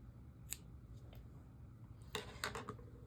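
Scissors snipping yarn while finishing a braided knitted ear warmer, a few faint crisp clicks close by, then a quick cluster of sharper cuts near the end.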